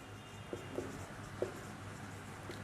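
A pen writes on paper in a quiet room, with soft scratching strokes and a few distinct taps as the tip lands, close but faint against a low steady hum.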